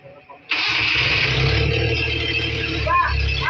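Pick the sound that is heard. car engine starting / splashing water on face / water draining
car engine starting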